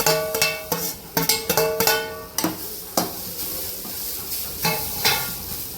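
Grated coconut sautéed dry in a pan for a sweet samosa filling, heard as repeated close scraping and clinking strokes of a spatula over a soft sizzle, in an uneven rhythm.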